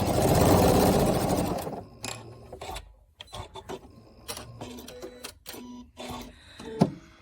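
A sewing machine pieces quilt squares for a speckled quilt block, opening with a loud, steady whir for about two seconds, then giving way to scattered clicks and light handling sounds close by.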